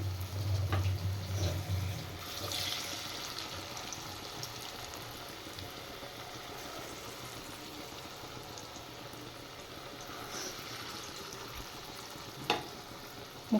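Vegetables frying in a pan produce a quiet, steady sizzle heard close but soft, with a low hum at the start, occasional stirring sounds and a sharp clink near the end; no one speaks.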